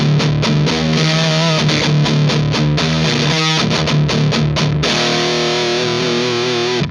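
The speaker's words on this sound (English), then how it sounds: "not actually incredible amounts of distortion. Still got that fuzzy kind of edge." An electric guitar plays chugging riffs through an HM-2 style distortion pedal, a buzzy, saw-edged, fuzzy tone, ending on a ringing sustained chord that cuts off abruptly.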